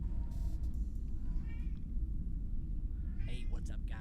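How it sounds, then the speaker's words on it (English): A cat meows from a corner of a room, producing a few short, echoing calls over a steady low background hum, with faint voices at the edges. "He's going in the corner and meowing because he gets more echo."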